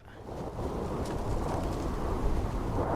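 Steady, low rushing wind noise in the video game Starfield, on a dusty volcanic landscape, that builds slightly and holds throughout, with no voices.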